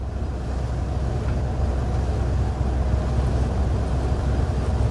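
Vintage Flxible Starliner bus cruising at 44 mph, a steady, loud low engine and road rumble with wind noise filling the cabin throughout.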